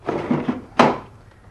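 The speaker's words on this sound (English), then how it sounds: "Close the lid" Closing the lid on an aquarium cabinet: some soft handling clatter, then one firm thunk as the lid shuts, followed by a short fading rattle.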